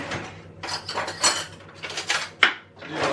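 Metal cutlery clinks and rattles as a spoon is pulled from a kitchen drawer, with repeated close, bright clatters of silverware and dishes and a sharp knock near the end.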